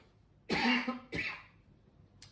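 Two harsh coughs in quick succession, close and fairly loud, followed by a faint brief sound.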